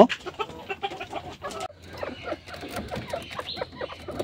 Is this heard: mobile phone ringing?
no